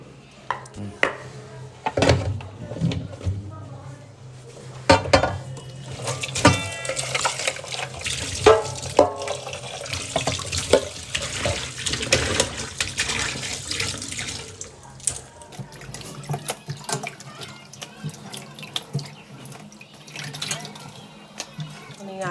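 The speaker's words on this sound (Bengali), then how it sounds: "চলো আগে এটাকে ধুয়ে জলে ভিজিয়ে রাখি" Potatoes are washed under running water in a kitchen sink, splashing and gurgling with occasional clunks of dishes, while someone talks over it; the flow eases off toward the end.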